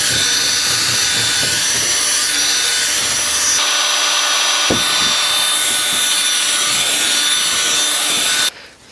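A power drill swirls its largest bit inside a hole in a box to widen it, giving a loud, continuous grinding and rubbing of wood. The sound stops abruptly near the end, and no one speaks.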